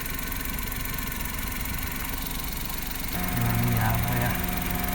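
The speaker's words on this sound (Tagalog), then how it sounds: "At umandar po ang ating fan." Mazda Scrum DA63T radiator fan whirring continuously alongside a running engine, with a steady mid-pitched hum that grows slightly louder and fuller partway through.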